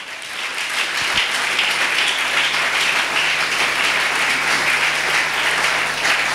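A church congregation at a deliverance service bursts into sustained loud applause and cheering, a dense clapping roar that builds quickly and holds steady to the end.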